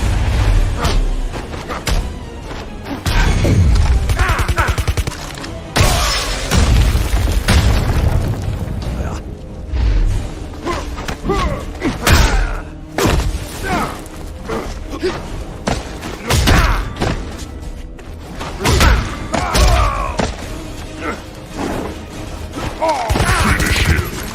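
Heavy booms, thuds and crunching impacts from Jax's fatality finishing moves in the Mortal Kombat fighting games, spanning versions from 1994 to 2019. The bursts come loud and dense, with an announcer's voice at times.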